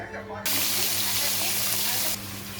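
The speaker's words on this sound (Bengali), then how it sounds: "কড়াই গরম হয়ে গেছে, এবারে মাছটা দেবো" Fish dropped into a hot kadai of oil bursts into a loud, bright sizzle that holds steady for nearly two seconds, then abruptly drops back to a softer background hiss.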